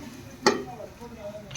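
A spoon stirring chicken curry in a pan: one sharp scrape and clink against the metal, followed by softer stirring and a faint sizzle, heard up close.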